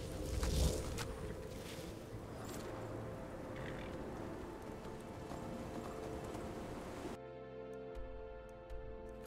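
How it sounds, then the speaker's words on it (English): Hooves of a conjured horse clip-clop in the video game Skyrim, a steady mid-level rhythm over a busy game backdrop, ending in a tonal music-like passage. "I forgot I can conjure a horse anytime."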